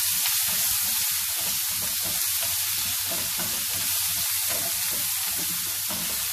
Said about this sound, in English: chilies are roasted well. Now we'll be adding our potatoes first.